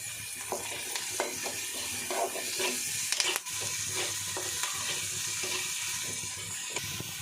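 Cumin seeds, onion and curry leaves frying in a pan, giving a steady loud sizzle with scattered crackles and faint stirring clicks throughout, no voices.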